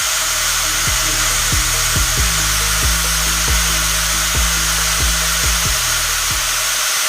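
A heat gun blows a steady loud whirring hum while warming a cracked plastic car bumper to soften it, with regular sharp clicks or taps breaking through every half second or so.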